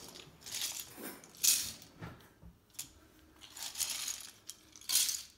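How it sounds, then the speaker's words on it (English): Plastic keyboard keycaps from a Unitek K-156 drop into the basket of an ultrasonic cleaner. Several separate clattering bursts come one after another, with quieter rustling between them and no talking. "put all the keycaps in the basket"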